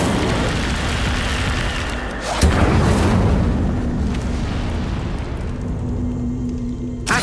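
In Hogwarts Legacy, the Incendio fire spell lets out a sustained roaring blast, with a sharp burst partway through and a steady fiery rumble that slowly thins toward the end.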